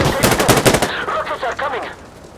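A loud, close burst of rapid automatic gunfire in the Insurgency: Sandstorm video game, a quick string of shots lasting under a second, followed by a voice shouting and echoing battle noise.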